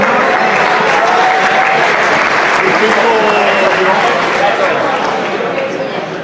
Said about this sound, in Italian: Luca Mattiello, facciamogli un applauso, lo invito qui